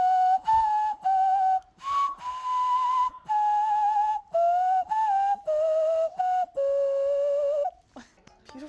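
Hand whistling of the Harry Potter theme song, a clear, pure melodic line of sustained notes with slight breaks between phrases, played alone before a brief burst of applause.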